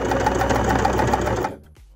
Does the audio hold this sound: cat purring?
no